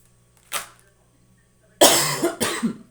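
A single cough, then a pause and two more harsh coughs close together, near and fairly loud against a quiet background.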